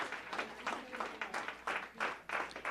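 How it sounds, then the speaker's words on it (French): A church congregation at a praise and testimony night in Ottawa claps in a steady rhythmic pulse, faint and somewhat distant, with no clear talk over it. "On applaudit, bon Dieu,"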